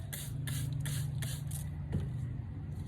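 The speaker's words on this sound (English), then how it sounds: "Just sprayed water all over." Five quick spray-bottle squirts of water in a row onto an owl statue being prepared for painting, each a short hiss of mist, close by over a steady low hum.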